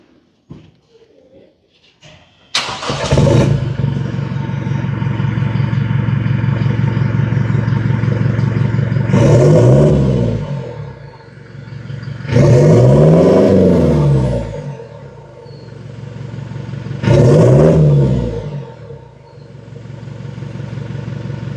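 A Toyota Fortuner GRS with a full exhaust system and dual side carbon tips idles with a steady low rumble, then is revved three times in sharp rising and falling bursts before settling back to idle.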